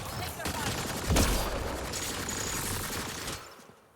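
Enemy gunfire in Mass Effect Andromeda comes as a dense, sustained fusillade that swells to a peak early on and fades out at the end.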